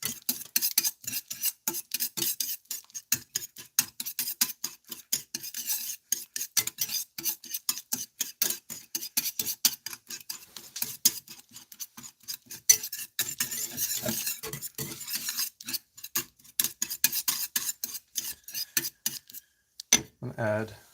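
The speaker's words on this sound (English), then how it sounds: "I'm just gonna whisk this again" Æbleskiver batter is whisked briskly in a bowl, producing a rapid, close run of scratchy wire-on-bowl strokes and clinks. The strokes keep going for about twenty seconds with brief pauses, and a voice speaks near the end.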